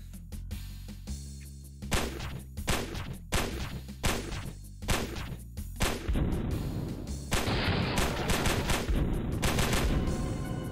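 Bursts of loud gunfire ring out in a browser shooting game, first as separate shots in a quick rhythm, then as dense continuous rattling fire.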